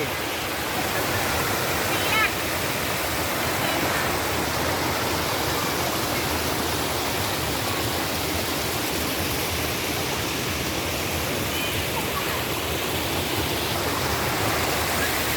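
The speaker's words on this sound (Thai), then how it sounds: "ให้ชมน้ำตกเป็นจุดท้าย" The Pang Sawan waterfall in Uthai Thani, Thailand, roars in a steady, dense rush of falling water, loud and unbroken throughout.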